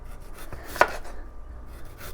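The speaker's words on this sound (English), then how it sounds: "now I'm going to cut the beets" Beets cut into straw pieces with a knife on a board, a quiet run of soft slicing and rubbing strokes with one sharper chop, close up and without talk.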